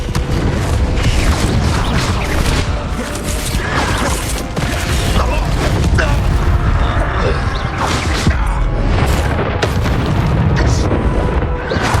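Repeated fiery spell blasts from Confringo in the game Hogwarts Legacy, loud booms and crashing bursts layered densely over combat clatter, with spell shouts mixed in.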